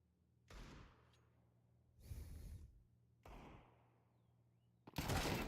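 Pistol shots in a Counter-Strike match ring out as four separate sharp reports spaced about a second apart, each with a short decaying tail, fairly quiet over a low background hum.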